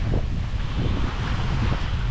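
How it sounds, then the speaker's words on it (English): Steady wind rushes past a sailboat under sail at sea off Guadeloupe, a broad constant roar with low buffeting and no voices. "The wind has just been perfect."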